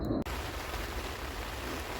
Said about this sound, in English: Well, the rain was a bit unexpected. You can hear it?